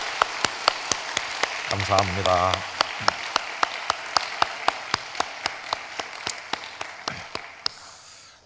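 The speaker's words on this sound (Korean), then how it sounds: "우리 격려의 박수로 한번 하도록 하겠습니다" Slow, evenly spaced claps ring out one by one in a church at a Friday prayer service, encouraging the praise team; someone speaks briefly over the early claps.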